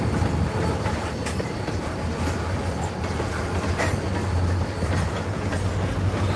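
Freight train cars rolling through the DeButts classification yard, a loud steady rumble with rhythmic wheel clatter close by, continuing throughout with no speech.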